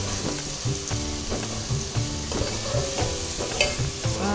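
Masoor lentils dropped into a frying spice mix and stirred, giving a steady close sizzle with regular rhythmic scraping strokes of the spoon throughout.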